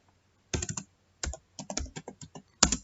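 Commands typed on a computer keyboard while configuring network equipment in software, heard as four close bursts of rapid key clicks with short pauses between them, alone and clear.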